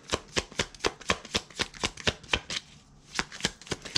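Tarot cards being shuffled by hand, close and fairly quiet, as a rhythmic run of crisp riffling flicks with a short pause midway before the shuffling resumes. No one speaks.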